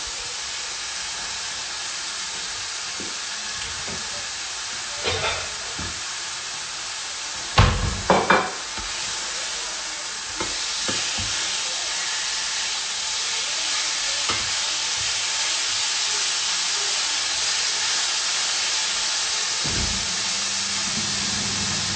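Steady hissing sizzle of food frying in a pan, with a few clattering knocks and scrapes partway through, no talking.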